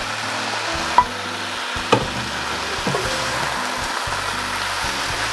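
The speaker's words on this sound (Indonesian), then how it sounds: "Kemudian saya aduk-aduk sambil saya tambahkan daun singkong yang sudah direbus dan sudah dipotong-potong." Young jackfruit and boiled, chopped cassava leaves sizzle and fry steadily in a pan, with a few sharp utensil knocks as the mix is stirred, loud and close with no talking.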